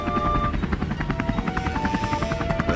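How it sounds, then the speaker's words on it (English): Helicopter passing overhead, a steady rhythmic rotor chop with a droning engine whine, fairly loud and continuous with no talk. "A helicopter flew overhead."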